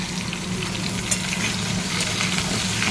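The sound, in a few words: fried potatoes and papaya stirred, sizzling in pan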